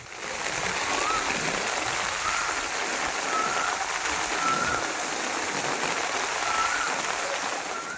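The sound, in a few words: heavy monsoon rain in Saurashtra, Gujarat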